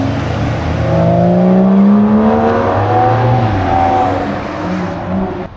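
An Aston Martin engine with a naturally aspirated growl, loud and close on a Tokyo street at a supercar meet, its revs climbing and falling in smooth sweeping pitches and then fading away near the end.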